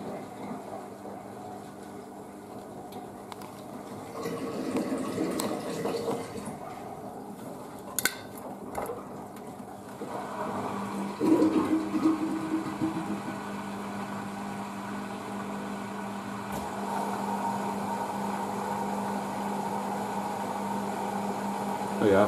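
A Blomberg WNF9448 washing machine flushes detergent during a synthetics wash, giving a steady mid-range rush of water with a few brief clunks, fairly close and continuous throughout.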